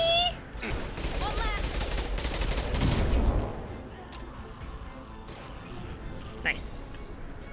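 Sustained gunfire bursts in the Mass Effect video game, loud and dense through the first half and tapering into scattered shots, mixed with game effects and a speaking voice.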